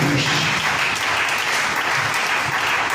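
Church congregation applauding at an Evangelical Pentecostal service, a dense, loud, continuous burst of clapping filling the whole moment with no talk over it.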